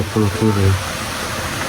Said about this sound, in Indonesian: Ada suara air deras banget.